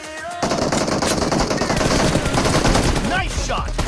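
Rapid automatic gunfire from a PUBG Mobile team deathmatch on an iPhone XR, starting after a brief quiet moment and continuing as loud, dense bursts with a few sharper shots near the end.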